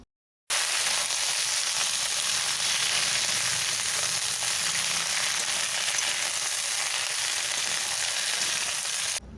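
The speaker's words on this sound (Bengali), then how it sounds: "এরপর কেটে রাখা সমস্ত সবজি ভেজে নেব" Chopped mixed vegetables frying in hot oil with bay leaf and panch phoron, a steady, loud, continuous sizzle that starts abruptly and holds evenly throughout, close up with no voices.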